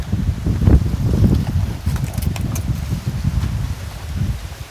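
Gusting summer storm wind in Laos, a steady low rushing roar with buffeting swells and faint rustling through the whole stretch, no voices.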